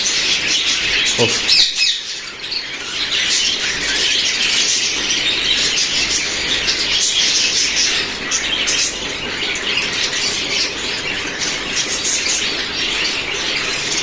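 Society finches and other pet finches bathe in water on a hot day, with a steady wash of splashing and fluttering and bright chirps and squawks throughout, close and fairly loud.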